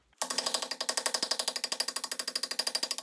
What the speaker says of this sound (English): This is an impact driver, and it has a Phillips fitting, perfect for these rotor screws.